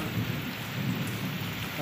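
Heavy rain pours down in a dense, unbroken roar with a low rumble of thunder beneath it. No voices.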